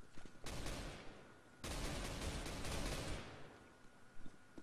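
Gunfire in Counter-Strike: two long dense bursts of rapid automatic fire, loud and close, with a few scattered single shots around them.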